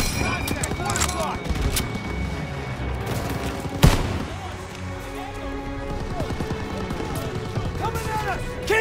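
Enemy machine guns fire from a barn in the World War II game Call of Duty: WWII, dense gunfire and bursts mixed with impacts and a sharp blast near four seconds, under shouting voices.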